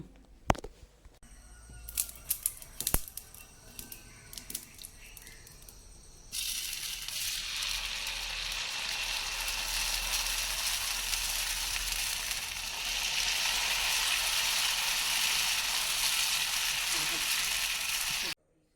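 A few clinks and clatters, then appam batter hits a hot pan and sizzles loudly and steadily, the hiss swelling a little toward the end.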